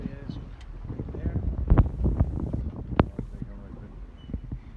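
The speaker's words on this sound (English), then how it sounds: "It's been a pretty blustery morning." Blustery wind buffets the microphone aboard a Morgan 38 sailboat about five nautical miles off Nova Scotia, a steady rushing roar with scattered gusts and knocks, and voices talk underneath.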